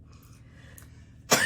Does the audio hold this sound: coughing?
yes